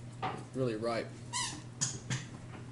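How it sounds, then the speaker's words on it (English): A dog plays with a squeak toy somewhere below in the house, producing several short rubbery squeaks in quick bursts, heard faintly beneath nearby talking. "That's our dog playing with the squeak toy."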